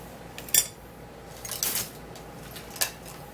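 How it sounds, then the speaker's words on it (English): An egg is cracked open for a homemade face mask, giving a few sharp clinks and taps spaced about a second apart against a quiet room background. "break open the egg"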